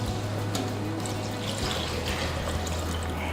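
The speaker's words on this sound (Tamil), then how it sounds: "அந்த சட்டியில் வந்து ஊற்றி கொதிக்க வைக்க போகிறோம்" Tamarind and spice broth for a village-style dried fish curry pours steadily into a cooking pot with a continuous splashing gush, close up, under a low constant hum.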